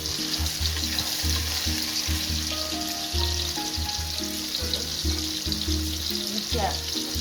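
Prawn biryani masala stirred in a pot, with a loud, steady sizzle and repeated scraping strokes of a spoon against the pot running throughout.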